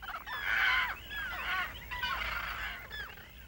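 Roseate terns at their grassy nesting island in Taiwan give harsh, rasping cries, several birds overlapping in quick repeated bursts close by.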